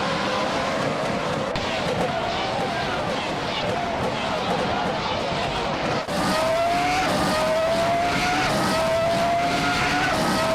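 Formula 1 race cars, among them a Jordan 196 and a Williams FW18, in a racing video game: a loud, continuous engine whine that climbs in pitch through gear shifts, with faint tire squeal.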